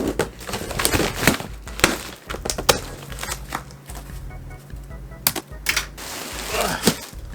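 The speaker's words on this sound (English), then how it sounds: "So we're just gonna quickly open this up and then put it together. Got my trusty knife here." A knife cuts open a cardboard box, making close, irregular bursts of scraping, slicing and crinkling with short pauses between strokes. A voice may be faintly audible in the background.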